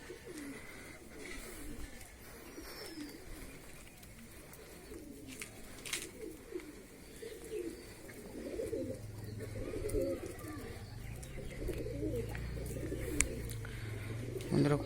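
A captured Nazra pigeon coos repeatedly in soft, throaty bursts over a steady background hum that grows louder toward the end.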